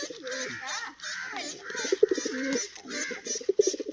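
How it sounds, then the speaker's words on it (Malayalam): A pigeon coos repeatedly during a bath in plain water, soft rolling calls close by, with light splashing and other birds in the background. "പ്രാവ് കുളിക്കായി"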